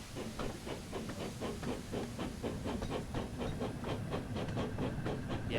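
The steam locomotive Gordon from the Thomas and Friends game, running near Knapford Yard: rhythmic steam chuffs over a constant hiss, a quick even beat at moderate loudness, with no talk.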